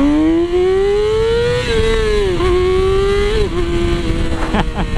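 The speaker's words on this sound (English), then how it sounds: "we'll do one last wheelie because I have never been able to wheelie on this bike" A Yamaha R6 motorcycle engine revs hard and holds a high, whining pitch during a wheelie, rising and dipping slightly with throttle changes. It is loud and close, with no talk.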